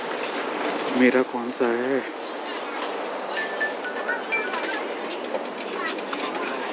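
Inside a moving passenger train travelling from Beijing to Xi'an, a steady low rumble of the carriage with faint rail noise, while someone talks close by.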